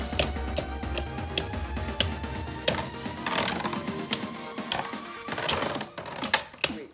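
Lego spinning tops (Apollos model) launched into a Lego Mugen stadium, producing a rapid run of sharp clicking and ticking clatter as they spin and collide, with steady whirring underneath throughout.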